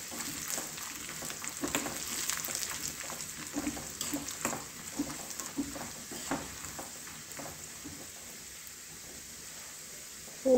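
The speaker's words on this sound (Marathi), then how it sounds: "तर ही फोडणी तयार आहे." Red chillies sizzle in hot oil in a pan for a Marathi-style tempering (phodni), a steady, fairly quiet crackling hiss with small pops and a few stirring sounds, no talking.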